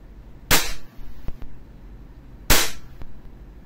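Two sharp, loud gas blowback shots from a WE Glock 17 Gen 5 airsoft pistol, spaced about two seconds apart, each followed by a quick metallic slide clack, with no talking.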